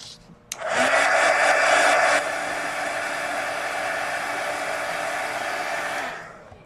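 A hair dryer blows steadily on freshly painted napkin art in a mixed media art journal, switching on abruptly, roaring loud and close, then easing to a lower setting before shutting off.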